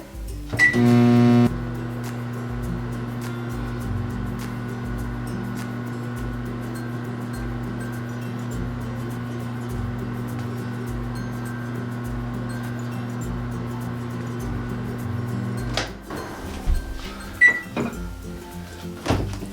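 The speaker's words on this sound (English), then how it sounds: "We're gonna put that in the microwave." A microwave oven hums steadily for about fifteen seconds after a brief beep, then stops and is followed by some clatter.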